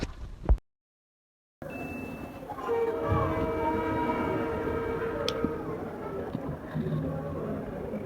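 A train moves steadily along the rail line as the main sound, with a horn or whistle tone sounding through it, loud and continuous after a brief silent gap near the start.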